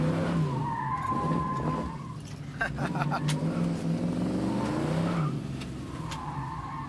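A 1966 Ford Mustang turning, its tires skidding and squealing in a couple of drawn-out bursts over a steady engine drone, close and fairly loud.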